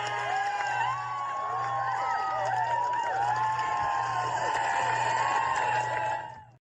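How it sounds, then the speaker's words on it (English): A crowd cheering, whooping and clapping at a live event, with many overlapping excited voices and shrieks, steady and fairly loud before cutting off abruptly. "I thought I heard some applauding here."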